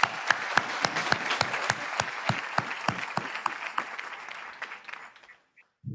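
Audience applause welcoming Cliff Asness of AQR and a finance professor onto the stage at a wealth and asset management conference: sparse, distinct claps with a fuller patter behind them, thinning out and fading to near silence.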